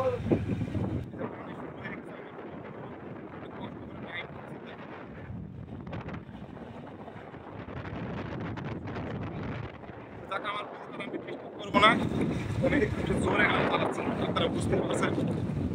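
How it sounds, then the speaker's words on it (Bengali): Heavy wind buffets a microphone outdoors on a rainy day, a continuous low rumbling roar that swells and gusts, growing loudest toward the end. "আর বাতাসের শব্দ হয়তো কথা একটু অস্পষ্ট হবে"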